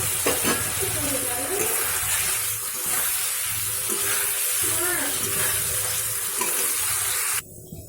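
Eggs fry and sizzle in a pan for a home-cooked egg curry, a loud, continuous close sizzle with stirring scrapes, ending abruptly.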